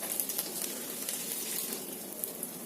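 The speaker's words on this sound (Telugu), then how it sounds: "కొంచెం బటర్ వరకు వేసేసుకుందాం." Butter sizzles in a hot pan for egg rice, a steady close crackling hiss with tiny popping spatters scattered throughout and no voices.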